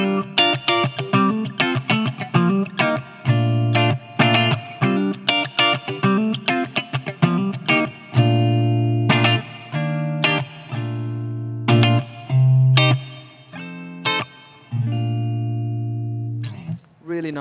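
A fuller-sounding electric guitar through a Blackstar ID:Series amp with TVP engaged plays a rhythmic, funky lick of choppy chords and sustained notes, loud and alone.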